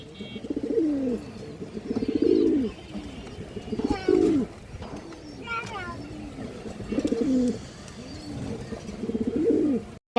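Several pigeons at a pigeon market coo in low, rolling bursts at a steady rhythm, close by, with a person speaking between and over the calls.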